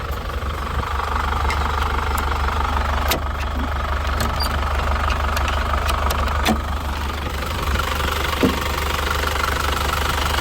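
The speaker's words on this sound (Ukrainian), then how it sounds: "І ось вам робота ТДІ двигуна." A Volkswagen LT van's TDI diesel engine idles steadily with a low, constant rumble and rhythmic knocking, a few faint clicks and taps over it.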